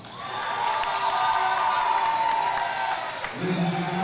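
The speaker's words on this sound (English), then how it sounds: "those of you who feel like Jacob Lira won the fight, round of applause" A crowd at a fighting championship event bursts into loud applause and cheering, sustained for several seconds before dying down, with some shouts mixed in.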